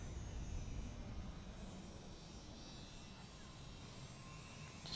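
An Eachine RC model warbird plane flies at three-quarters throttle in a strengthening wind, its electric motor and propeller giving a faint, steady, distant drone throughout.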